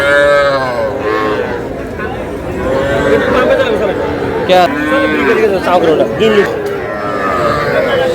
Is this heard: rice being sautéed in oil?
no